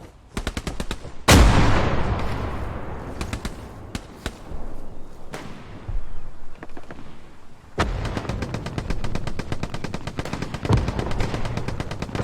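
Automatic machine gun bursts and heavy artillery blasts in the WWII shooter Hell Let Loose: rapid rattling volleys punctuated by loud booms, with sustained rapid gunfire filling the later part of the stretch.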